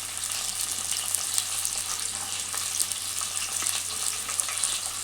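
Sliced onion and green chillies frying in hot oil in a pan for Schezwan egg fried rice, a steady close crackling sizzle running evenly throughout with no talking.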